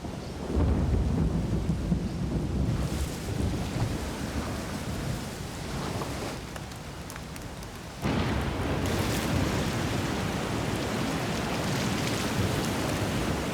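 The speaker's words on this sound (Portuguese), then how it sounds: "para protegê-la de uma tempestade subtropical" A subtropical thunderstorm on North Stradbroke Island, Queensland, with steady heavy rain and gusting wind, rolling thunder swelling early on and a sudden louder burst of downpour partway through.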